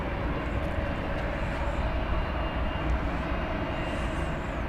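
Big jet airplane at DFW Airport, a steady, loud broadband engine roar holding constant throughout with no talk.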